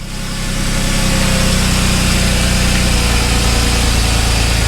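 Audi S4 B8 engine idling with a steady, loud low rumble and a constant vibrating hum, close up and unbroken after a brief rise at the start.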